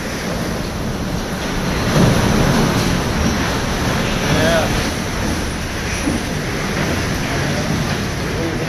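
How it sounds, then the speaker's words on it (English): Hurricane Irma wind and water pounding Point Pleasant Resort, St Thomas, a loud, continuous roaring rush that swells in the middle and never lets up. "That is some wind right there."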